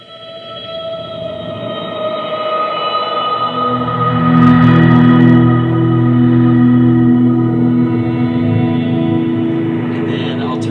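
Electric guitar run through a pitch shift pedal with reverse reverb, delay and extra reverb, giving sustained, layered drones and a swelling, ambient wash that builds steadily and stays loud throughout.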